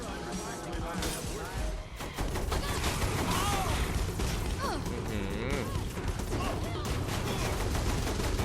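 Rapid bursts of video game gunfire from Saints Row The Third, loud and dense throughout, with game character voices and a player talking over the shots.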